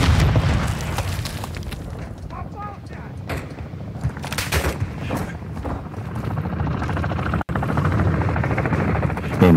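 A Semtex grenade blows up in an online shooter game with a low booming blast amid continuous rumbling game noise and a helicopter-like drone, loud throughout with a brief cut near the end.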